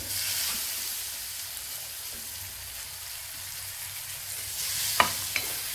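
Tomatoes tossed into oil with chillies that are already roasted, frying in a pan as a steady soft sizzle. A couple of sharp clinks from a utensil come near the end, and no one speaks.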